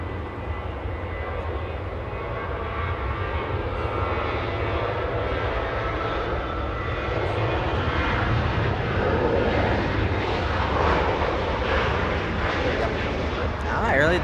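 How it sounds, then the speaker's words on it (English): Southwest airliner departing Los Angeles International Airport, a loud sustained jet engine roar rising slightly in intensity, heard at a distance. "Now the Southwest departing."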